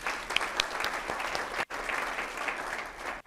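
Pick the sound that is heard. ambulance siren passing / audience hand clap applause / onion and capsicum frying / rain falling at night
audience hand clap applause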